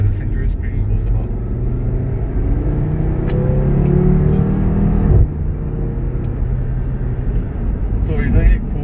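A 2018 Audi RS3 with 19-inch sport rims and an RS Sport exhaust accelerates hard through a 0-100 sprint, its engine note climbing loudly in pitch, dropping at a gear change midway, then pulling again up close.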